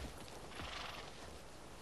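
A horse whinnies close by, a short high neigh over a steady noisy background, with faint hoof movement beneath.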